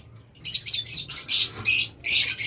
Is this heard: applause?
no